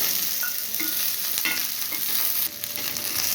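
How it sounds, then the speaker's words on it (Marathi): Green chillies and garlic cloves frying in hot oil make a loud, unbroken sizzle close by, dotted with small pops and crackles and a brief sharper spit near the end. "मिरच्या व्यवस्थित भाजून घ्यायच्या"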